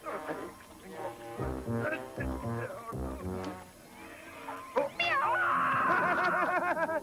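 A cartoon cat meows and yowls in a vintage 1980s–90s Japanese animated Robin Hood dubbed in English, drawn-out cries over music and sound effects, ending in a loud sustained wail.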